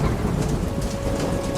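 Steady animated-cartoon rain effect of water falling, with a low rumbling undertone, loud and continuous throughout without any voices.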